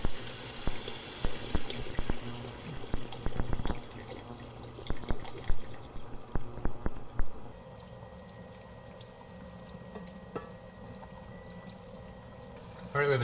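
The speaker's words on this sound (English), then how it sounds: "so I'm gonna pour the rest of that bottle in there." Liquid pours from a wine bottle into a hot skillet, giving uneven splashing and gurgling bursts that stop partway through, leaving a quieter steady bubbling.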